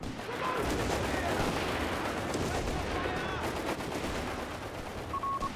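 Artillery fire called in on a hill in the strategy game Company of Heroes 3: a dense, continuous barrage of booms and rumbling blasts, loud and unbroken throughout.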